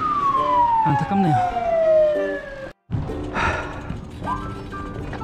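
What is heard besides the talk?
ambulance siren carrying an injured cyclist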